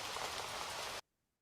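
Steady recorded rainfall hiss played as a sleep sound, dense and even for about a second before cutting off abruptly into silence.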